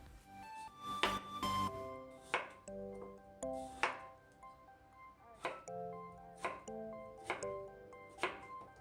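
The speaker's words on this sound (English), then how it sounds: "you want to cut them up into kind of fairly bite-sized cubes so that they will cook" Knife chopping carrots and potatoes into bite-sized cubes on a cutting board, a steady series of sharp, close thuds spaced about half a second apart, with faint clinking between cuts.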